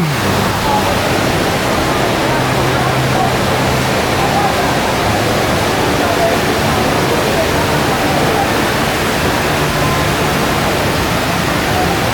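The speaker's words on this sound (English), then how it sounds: "This huge indoor waterfall." The huge indoor waterfall at Jewel, Changi Airport, Singapore, roars as a constant, dense rush of falling water, loud and close, unbroken and unchanging for the whole stretch.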